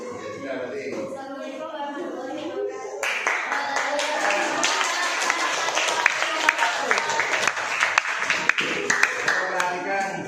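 A classroom audience breaks into loud, steady group clapping after a short stretch of voices, the dense applause running continuously to the end with some talk mixed in.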